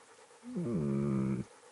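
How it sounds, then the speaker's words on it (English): A dog in Kingdom Come: Deliverance gives a single short, close, tonal whine-like pant lasting about a second, alone against a quiet background. "There's the good doggy."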